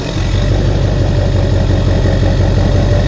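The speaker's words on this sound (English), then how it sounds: "I always love firing up the Duramax." A Duramax diesel truck engine idles with a steady, deep, rhythmic clatter, loud and close, with no starting crank heard, running evenly throughout.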